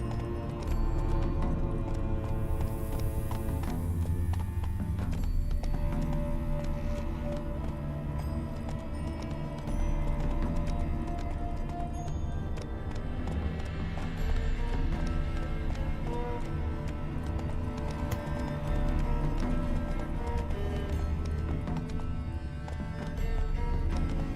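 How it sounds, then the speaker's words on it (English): Steady clip-clop of horse hooves in The Witcher 3: Wild Hunt under a dense bed of game music, continuous and fairly loud throughout. "Giddy up. Come on, Roach"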